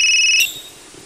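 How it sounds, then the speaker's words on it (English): Phone ringing after being dropped: a loud electronic ringtone pulses steadily, then stops short and leaves a faint, quiet room. "somebody dropped their phone. Whoa, it's ringing"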